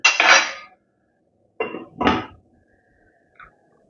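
A lid set down on a pot of simmering prawn kola curry, heard as a short clatter followed by a pair of louder metallic knocks and a faint tap, close by and with no voices.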